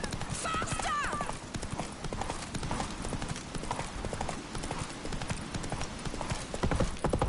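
Roach, a horse in The Witcher 3, gallops in a rapid, rhythmic hoof clatter with a whinny early on, under shouted voices and game music.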